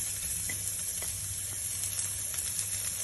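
Garlic and onion sauté in hot olive oil, giving a steady close sizzle and hiss that runs without a break, with faint stirring clicks now and then.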